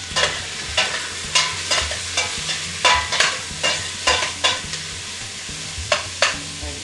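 Food cooking slowly on low heat in a pan, soft sizzling under rhythmic scraping strokes of a utensil that repeat about every half second, close and with no talking.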